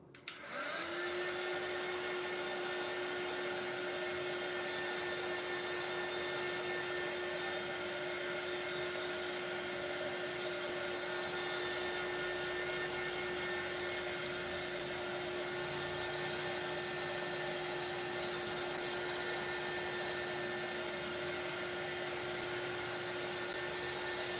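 A heat tool blows steadily to dry a layer of texture in a craft tag project, a loud, constant close whine with a fixed high tone that runs unbroken after a brief start-up.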